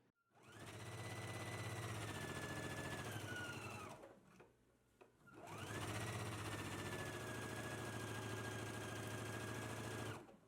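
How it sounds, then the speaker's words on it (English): A serger finishes the side seams of a Vogue V2064 dress in two long, steady runs separated by a short pause, with the motor whirring loudly and evenly close by and no talking. "then you can finish off your seam with your serger"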